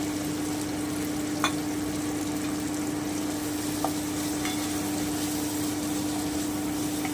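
Potatoes are stirred and fried in a spice paste for a Bengali fish curry, giving a steady, close sizzle with a few faint clinks of a spatula against the pan and no talking.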